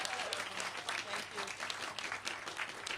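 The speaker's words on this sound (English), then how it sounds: "Let's give Chigozim a big round of applause" Applause from the crowd at a ribbon-cutting ceremony for the modernized Ida B. Wells Middle School, a fairly quiet, distant patter of many hands clapping with faint voices mixed in.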